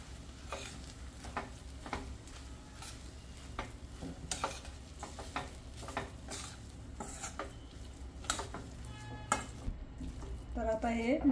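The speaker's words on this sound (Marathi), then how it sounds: "आता मी गॅस बंद करते आणि हे मायोनीज आहे ना, ते त्याच्यात टाकून देते. आणि हे सगळं एकजीव करते." A spoon stirs mayonnaise into a cooked vegetable sandwich filling in a pan with the gas off, scraping and clinking steadily against the metal, close up with a faint background hum.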